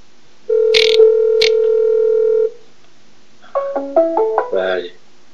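Telephone line during a test call: a loud, steady dial tone holds for about two seconds, interrupted by two short clicks, followed by a quick series of stepped dialing tones.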